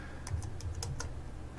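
Rapid typing on a computer keyboard while entering commands in the Metasploit console: about five crisp, fairly faint keystrokes in quick, uneven succession over a low background hum.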